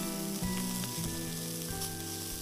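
Carrots and chicken sizzling in a pan while pasta masala is cooked, a steady close frying hiss under a sustained musical tone that shifts pitch a few times, with no talk.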